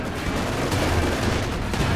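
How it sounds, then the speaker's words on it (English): Anti-tank gunfire strikes Panther tanks in the Company of Heroes 2 strategy game, a dense, loud barrage of booming shots and impacts blending into continuous battle noise. "A lot of AT gunshots landing on these Panthers here"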